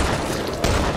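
Shotgun blasts in the Back 4 Blood video game, a dense burst of loud booming gunfire at close range, with a fresh heavy shot hitting partway through the short span.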